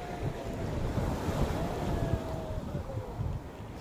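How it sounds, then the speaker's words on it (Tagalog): Big ocean waves surge in a loud, continuous rush of surf and churning water, with strong wind buffeting close by throughout. "Lakas ng alon!"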